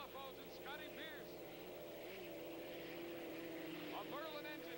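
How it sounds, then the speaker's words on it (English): Unlimited hydroplane race boats, one powered by a Merlin aircraft engine and one by a Griffin, drone steadily in the distance at a 1987 Syracuse race, under continuous commentary. "A Merlin engine for the executone against the Griffin engine of the Budweiser."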